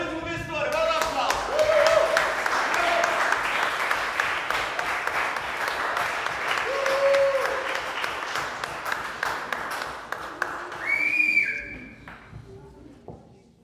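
A crowd applauds a bingo winner, with long, loud clapping, whistles and cheering voices rising and falling over about thirteen seconds before dying away, while people talk underneath.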